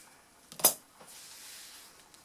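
Small scissors make a quick snip into a fabric fold while marking the centre of the material for a beginner tote bag, a single short crisp cut standing clear against quiet room tone.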